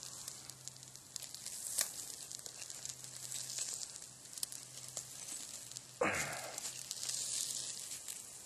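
Steak sizzling over a survival ground fire outdoors, a soft steady hiss and crackle with one sharper rustle partway through, faint and continuous with no talking.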